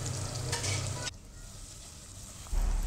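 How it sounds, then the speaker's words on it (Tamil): Tomato sautéing in a pan for a chicken white kurma, a steady close frying sizzle that drops away sharply midway, then a louder low rumble of stirring returns near the end. "தக்காளி சேர்த்து நல்லா வதக்கிக்கலாம்"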